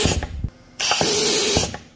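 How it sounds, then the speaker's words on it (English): Compressed air leaks from the pressure regulator of a HAAS machine during tool release: a short hiss, a brief pause, then a loud sustained rush of air that fades near the end. "I push the tool release, you're gonna hear a lot of air leaking"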